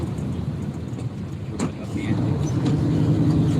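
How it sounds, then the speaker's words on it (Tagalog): Road traffic on a busy street in Manila, with motorcycles weaving past, forms a steady close rumble of engines that swells in the second half. A brief sharp sound cuts through near the middle, and someone talks over it. "Ayan o, traffic po"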